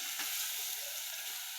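Omena, small fish, frying in a pan gives a steady hiss and sizzle, fairly quiet and unbroken, with no voices.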